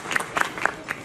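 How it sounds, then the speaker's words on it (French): Brief bursts of hand clapping from a small group, a few quick rounds of applause in about a second. "On vous applaudit"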